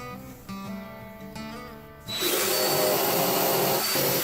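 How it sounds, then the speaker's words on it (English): A power tool hums briefly, then a loud drill grinds steadily into wood, close and continuous for the last couple of seconds. "So we're going to drill almost all the way through"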